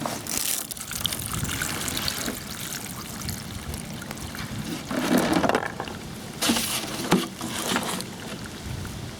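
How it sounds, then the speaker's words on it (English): Water is poured out of a container used for bullet expansion testing, a wet sloshing and splashing with several surges and gurgling bursts, close and fairly loud over a faint background. "So let's pour this thing out."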